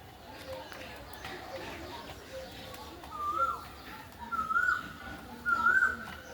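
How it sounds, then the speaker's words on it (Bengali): A koel calls three times in a quiet, leafy setting with trees, each call a short rising note repeated at even intervals, moderately distant over soft background murmur. "দেখেন কোকিল কীভাবে ডাকতেছে"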